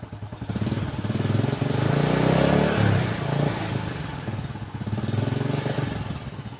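An old Honda Supra X motorcycle that has not been warmed up in a long time is blipped gently among houses. A rough, clattery idle swells into a few moderate revs and settles back, up close and steady.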